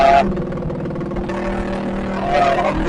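Motorcycles ride along a main road in Bekasi during the holiday homecoming traffic, engines droning steadily up close, with revving rising and falling as bikes pass.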